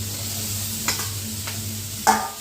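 Cooked rice is stirred into a frying tempering for lemon rice, a low sizzle under a steady hum with a few distinct spoon scrapes against the pan.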